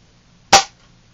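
One sharp, loud crack from a TSD Tactical Law Enforcer 92100A / SD1187 airsoft pump-action shotgun firing, a single close shot with a quick decay and no talking.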